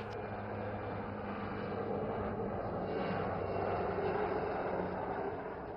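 Chetak military helicopter passing overhead at an Indian army firepower exercise in Pokhran, Rajasthan, a steady broad engine and rotor roar at moderate distance, continuous throughout without talk.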